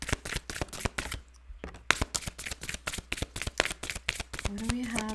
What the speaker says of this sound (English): I'm just waiting for the cards to pop out